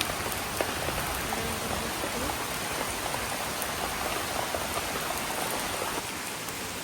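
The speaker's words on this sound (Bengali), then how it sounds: "কি পরিমাণে বৃষ্টি হতেছে ক্যামেরাতে অত ভালো পরিমাণ বৃষ্টি দেখা যেতেছে না" Heavy rain pours steadily on a rainy day, a dense continuous hiss of drops hitting surfaces that stays loud and even throughout, with no voices.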